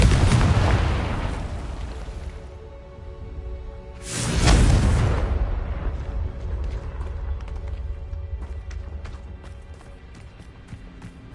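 In Hogwarts Legacy, a Confringo explosion spell bursts with a loud booming crack at the start, then a second heavy blast follows a few seconds later, each rumbling off into a long fading tail with faint crackles.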